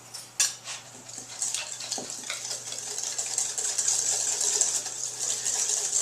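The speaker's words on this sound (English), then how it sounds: "Now I'm just going to whisk it together." Sugar and baking powder whisked together in a bowl for a peach and blueberry cobbler, a rapid rattling metal whisk against the bowl that builds into a steady, close scraping patter, no talk.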